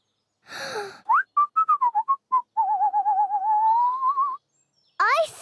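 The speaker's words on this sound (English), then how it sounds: "you whistled" A cartoon character whistles a playful, sliding tune, a string of short rising and falling notes followed by a long wavering warble, clear and close with brief gaps.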